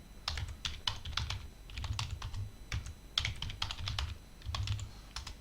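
A new admin password is typed on a computer keyboard for Cisco ISE CLI recovery, in short bursts of crisp, close key clicks separated by brief pauses, quiet and without speech.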